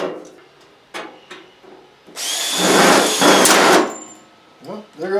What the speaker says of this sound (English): So now we're just putting screw holes in everything to finish holding it together.